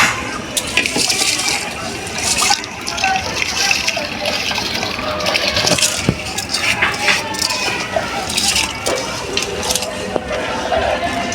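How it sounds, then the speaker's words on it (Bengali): Soaked rice goes into a pot of water with splashing, pouring and clinking of utensils against the pot, a voice talking over the sounds throughout. "এর জন্য চালটা ছেড়ে দেবো।"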